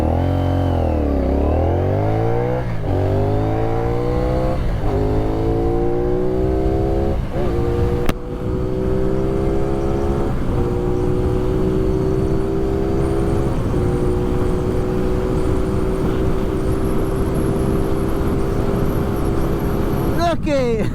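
A new CFMOTO 450NK motorcycle, still in break-in, accelerates hard through several gears, its engine note climbing and dropping with each shift, loud and close throughout.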